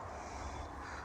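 A crow caws faintly in the distance over a low, steady background rumble of highway traffic beside open grasslands.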